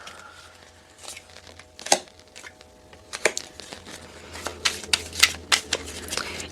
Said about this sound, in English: So I'm going to keep on doing my shuffling and I'm not going to fast forward.